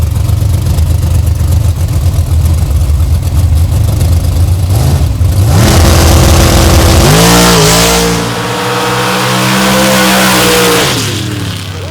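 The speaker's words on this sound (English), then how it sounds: "1983 Chevy K10 with a 632 cubic inch ring racing engine." A 1983 Chevy K10 truck with a 632 cubic inch racing engine and Powerglide transmission at a stock truck race, loud and close, idling roughly then revving hard with rising pitch sweeps before easing off, over crowd and track noise.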